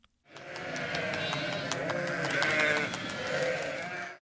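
Sheep and lambs bleat close by in a sustained chorus of overlapping cries, loud and continuous for a few seconds.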